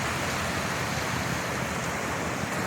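River water churned up by a passing launch's wake laps and rushes along the bank in a continuous, nearby, fairly even wash, with no voices.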